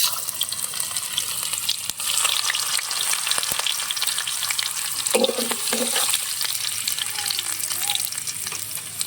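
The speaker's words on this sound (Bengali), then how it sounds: "এবার বন্ধুরা আমরা আদাটা দিয়ে দেবো এবার।" Ginger dropped into hot white oil with cumin seeds sizzles and fries continuously up close, with a few brief stirring knocks, and nobody talks over it.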